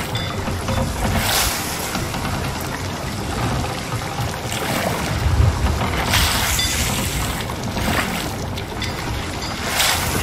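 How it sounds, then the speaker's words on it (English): A heavy storm at sea in Sea of Thieves, played solo, with mountainous waves: continuous loud roaring water and wind, broken by repeated crashing splashes of waves breaking over the ship. No voices are heard. "the storm is pretty heavy and the waves are just mountainous"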